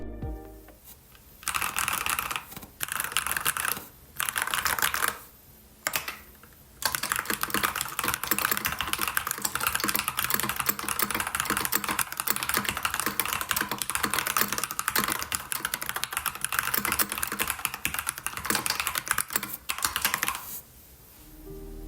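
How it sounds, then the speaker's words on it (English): Steady, rapid typing on a Keychron K10 Pro mechanical keyboard with red switches, soft, muted keystrokes, close by. Short pauses break it up early on, then it runs continuously. No voices. "the keyboard that I'm using is the Keychron K10 Pro with the red switches"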